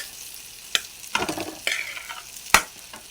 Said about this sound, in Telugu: ఇప్పుడు మనం దీంట్లోకి రైస్ వేసుకుందాం. ఇట్లా రైస్ వేసుకోవాలి.